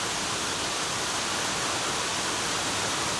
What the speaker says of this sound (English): Listen to how powerful and how heavy that rain is coming down.